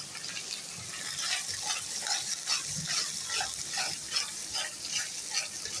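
Hilsa fish fries in mustard and cumin paste in a pan, giving a steady close sizzle with soft stirring scrapes throughout and no voices.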